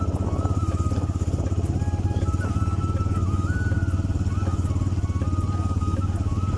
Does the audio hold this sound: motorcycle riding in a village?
yes